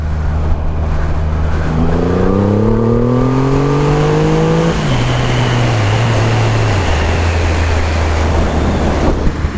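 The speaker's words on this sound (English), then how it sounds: "engine's all warmed up, so we can give this a bit of a squirt." A warmed-up car engine revs hard and accelerates, its pitch climbing steadily for a few seconds, then dropping back to a loud, steady drone as the car keeps driving.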